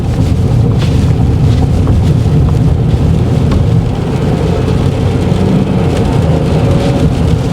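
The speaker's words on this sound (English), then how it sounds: "Obviously not the best sounding engine" A 2025 Ford Maverick XLT accelerating in sport mode, a steady loud engine drone mixed with heavy road and wind rumble inside the cabin, continuous with no talk.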